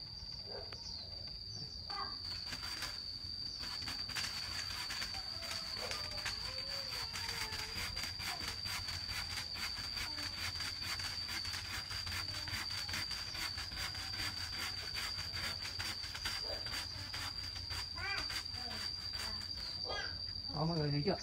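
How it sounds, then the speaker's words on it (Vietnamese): A SANTA 3 m Taiwanese pole saw cuts through a large, rotten tree branch in fast, even back-and-forth rasping strokes that continue steadily throughout, with a thin constant high whine behind them. "Cả cành to này cưa rất nhanh nhé."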